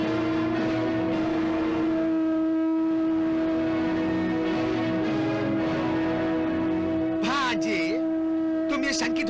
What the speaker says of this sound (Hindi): ये शंख अर्जुन पुत्र अभिमन्यु बजा रहा है।